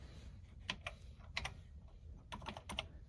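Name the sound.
typing on Atari 800 computer keyboard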